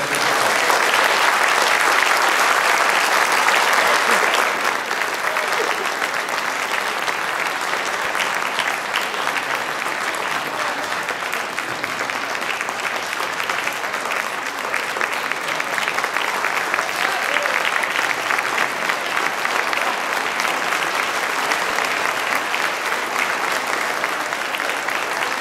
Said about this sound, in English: if we could just have a round of applause